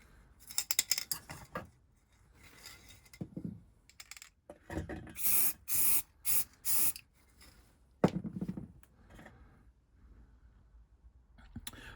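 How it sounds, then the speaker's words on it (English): Grey primer spray paint hissing from a can onto model railway axle boxes, several short bursts in a row amid light handling clatter, close and fairly loud, with no talk. "So let me grab some spray."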